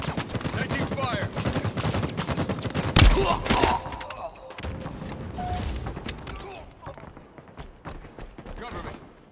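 Gunfire in a Halo Infinite ranked Arena match rattles in quick, close bursts, strongest early, with a game voice speaking over the shots.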